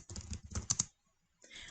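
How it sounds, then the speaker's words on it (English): Typing on a computer keyboard in bursts of quick, close, quiet key taps, then a pause of near silence before a short burst of keyboard clatter resumes. "we type in period 1"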